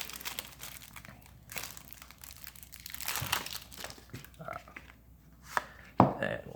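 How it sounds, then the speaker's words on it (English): Keyforge Age of Ascension deck packaging torn open by hand, giving bursts of crinkling and ripping with a couple of sharp rips near the end, close and fairly quiet with no talking. "let's tear into this"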